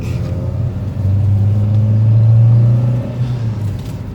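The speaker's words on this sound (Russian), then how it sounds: "Смотри, движок перестал дергаться." Chipped VAZ-2110 car engine running Ice Breaker firmware on a January 7.2 ECU, rumbling as it accelerates, with a steady low drone that swells smoothly and then eases off, close and loud with no voices.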